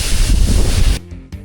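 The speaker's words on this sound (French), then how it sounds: "ça vous donne en tout cas une idée de la taille de la cascade en étant juste à côté" A large waterfall in the Haute-Savoie mountains, heard from right beside it: a loud, dense roar of rushing water fills the first second, then drops to a quieter wash.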